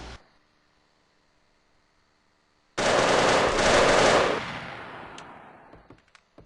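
Video game firefight gunfire breaks out suddenly as a loud, sustained automatic burst after a quiet stretch, then tails off into scattered single shots.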